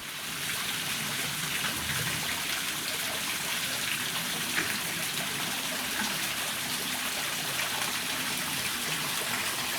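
A small waterfall beside a rocky trail on the hike to Kolob Arch gives a steady, even rush of falling water, constant and fairly close, with no voices.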